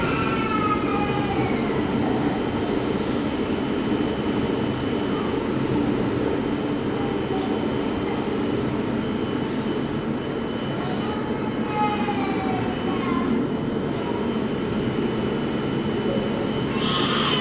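A London Underground Victoria Line train rumbles steadily through a station, with a continuous low roar, rising and falling squeals from the wheels, and occasional hissing bursts.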